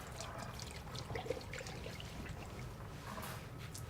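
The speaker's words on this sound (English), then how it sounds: "So the reason why I'm squeezing out the water is because now we're going to start with the shampoo." Water trickles and drips steadily as a wig is squeezed out during washing, a soft continuous wet splashing that stays close.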